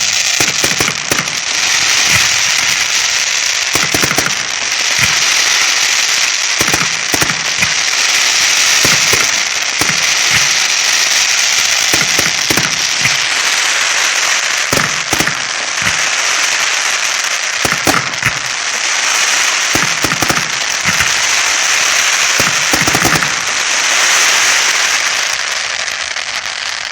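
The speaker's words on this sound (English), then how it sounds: "The left and right side are time rain cylinders. They should crackle." Time rain fireworks cylinders and a time rain willow shell pour out continuous dense crackling, loud and steady throughout, punctuated by repeated deeper pops and bursts at a public fireworks display.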